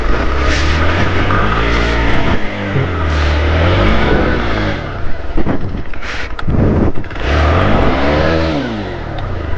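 A car stuck at a cave beach in Vizag revs its engine hard and continuously, rising and falling, with strong wind noise on the microphone throughout.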